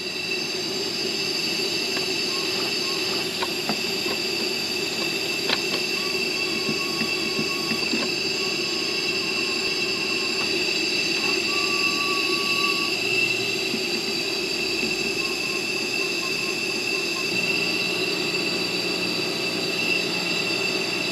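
A Ford F250 4R100 six-speed transmission cutaway, locked in second gear, is turned over. It gives a steady mechanical whine with a faint metallic squeal and occasional light clicks that run evenly for about twenty seconds, with no talking.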